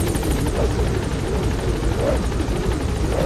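An enemy combat helicopter in Metal Gear Solid V drones steadily, its rotor chop pulsing loud and continuous throughout with no voices over it.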